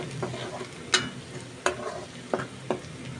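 Onion, ginger and garlic fry in a pan under a soft continuous sizzle, punctuated by four or five sharp spatula taps against the pan at uneven intervals.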